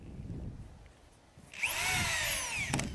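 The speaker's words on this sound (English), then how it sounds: "Attach a 1-inch screw to the corner end and drive screws every 10 inches along each edge" A power drill drives a one-inch screw into plywood on a skateboard halfpipe, a single rising whine about a second long after a quiet start, close and loud.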